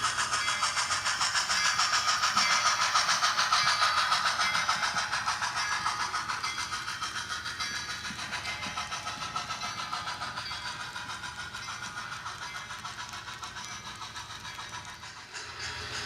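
An HO scale model train arrives at a station on a 1923 Sierra Railway layout, a steady whirring hum with a faint rhythmic click that fades gradually over about sixteen seconds.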